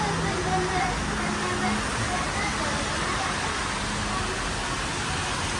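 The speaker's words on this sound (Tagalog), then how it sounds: "Umuulan na." Steady rain falls on a city street by Paterson Road, a dense, even hiss of drops that stays constant and fairly loud from start to end.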